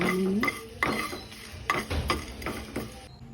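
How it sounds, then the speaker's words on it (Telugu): Peppercorns, dried red chillies and a bay leaf frying in oil in a pan for vangibath, with a spoon clinking and scraping in several quick strokes over a light sizzle, close and fairly loud. "నాలుగు మిరియాలండి రెండు ఎండుమిరపకాయలండి పలావ్ ఆకు దోరగా ఫ్రై చేసుకోవాలండి"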